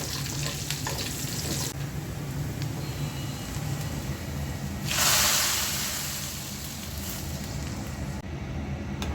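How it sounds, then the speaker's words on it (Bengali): Lentil dal with bottle gourd is tempered with onion, garlic and panch phoron in hot oil, giving a steady close sizzle that swells into a louder, hissing burst midway before settling back. "ডালটা এখন বাগার দিয়ে নিব। পেঁয়াজ আর রসুন দিয়ে দিয়েছি, একটু পাঁচফোড়ন দিয়ে দিলাম।"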